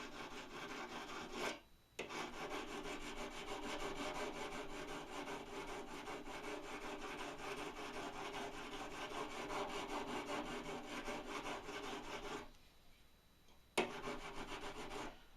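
Pottery trim tools being sharpened by rubbing against a file, a continuous close raspy scraping that runs steadily for over ten seconds with two brief pauses.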